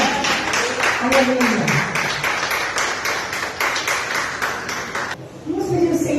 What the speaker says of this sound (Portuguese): Vamos aplaudir o Senhor nessa manhã?